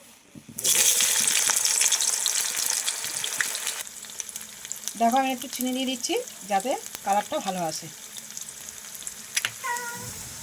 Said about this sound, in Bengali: পেঁয়াজটা আমি কুচোনো দিয়ে দিচ্ছি এর মধ্যে।